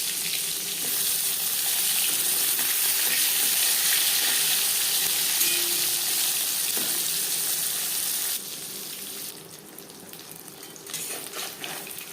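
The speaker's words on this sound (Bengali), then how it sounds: "সর্ষার তেল বেশ ভালো করে গরম হয়ে গেছে দিয়ে দেবো লবণের মধ্যে রাখা বেগুন" Salted eggplant pieces sizzle loudly and steadily in hot mustard oil, the hiss dropping to a quieter level partway through as the frying settles, with no talking.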